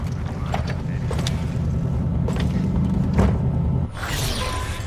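A boat engine idles with a steady low rumble in a Cyberpunk 2077 game scene, joined by intermittent mechanical clanks and a whooshing shift near the end.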